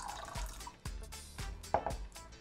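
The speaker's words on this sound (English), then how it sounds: "pour a little bit, stir it up really good" Liquid activator poured into a glow-in-the-dark fluorescent slime mixture, giving soft drips and small wet splashes in an uneven rhythm, close and fairly quiet, with no talk.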